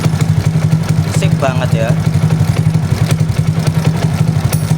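A motorcycle engine idles close by with a steady rhythmic chugging throb throughout, while someone talks briefly over it.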